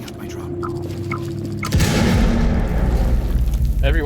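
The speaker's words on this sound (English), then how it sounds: "Frag grenade is setting up my drop." A frag grenade goes off in a video game with a loud, deep boom about halfway through, following a quieter stretch and leaving a rumbling, crackling tail.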